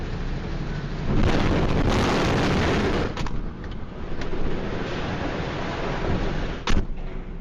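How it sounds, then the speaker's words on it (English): Grain silo explosion from wheat dust at an industrial site, a deep sustained roar of blast and rumble swelling loud around one second and holding, with a sharp crack later, no voices. "Official reports claim that the explosion occurred due to wheat dust compression"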